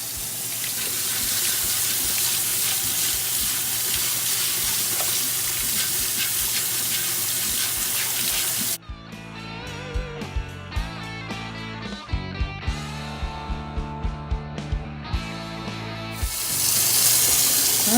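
A hot cast iron skillet caked with crud sits under a steady stream of very hot tap water. The stream keeps up a loud running hiss, then gives way to scraping, clattering scrubbing knocks.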